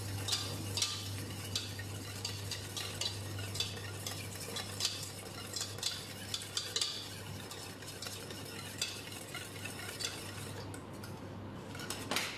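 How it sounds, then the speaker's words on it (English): Eggs whisked continuously, probably in a stand mixer, for a chocolate fondant make a quiet, fast and steady ticking and clattering of metal against a bowl over a low hum that lasts throughout. "Continuously whisking"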